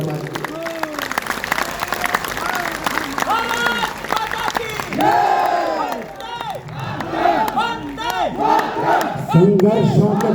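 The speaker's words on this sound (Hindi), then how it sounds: "एक बार दोनों हाथ उठाकर तालियां बजाइए" Audience at a Hindi poetry recital (kavi sammelan) erupts into clapping, cheering and loud shouts, a dense crowd roar that swells and surges throughout with voices calling out over it.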